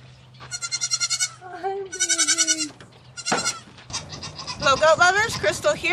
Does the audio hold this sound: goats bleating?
yes